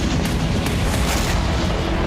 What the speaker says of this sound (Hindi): क्रास्नोदर की एक रिफाइनरी में जोरदार धमाका हुआ